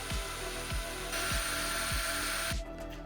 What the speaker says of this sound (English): I then drill 4 identical holes in each corner